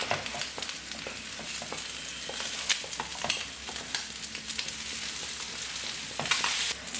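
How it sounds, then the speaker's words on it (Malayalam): Fish shallow-frying in hot oil in a pan for a home-style Kerala lunch, a steady loud crackling sizzle peppered with spattering pops and a few clinks and scrapes as the pieces are turned, no one speaking. "ഇനിയിപ്പോൾ നമുക്ക് ഫിഷ് ഒന്ന് മറിച്ചിട്ട് കൊടുക്കാം"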